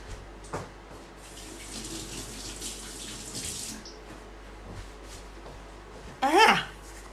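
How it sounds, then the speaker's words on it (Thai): Hands being washed under a running tap at a sink, a short burst of splashing water near the end after a stretch of quiet room sound with faint background noise. "เดี๋ยวล้างมือแป๊บนึง"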